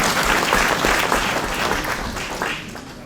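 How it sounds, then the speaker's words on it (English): Applause from a conference audience at a Pan-African opening ceremony on building socialism, a steady dense wash of many hands clapping together, fairly loud and close, slowly fading toward the end with no talk over it. "it's time to clap hands for our comrades who have built organizations of the working class"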